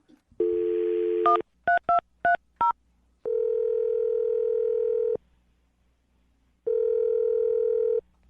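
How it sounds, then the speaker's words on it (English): A telephone line plays a short dial tone, then four quick DTMF keypad beeps in rapid sequence, followed by two long ringback tones separated by silence, all clean and close. "I'm going to dial her phone number right now"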